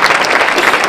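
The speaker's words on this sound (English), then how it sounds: "so you have a nice round of applause for the gentleman" Loud, dense applause from a live audience for a man being welcomed onto a stage, steady and close throughout the brief moment.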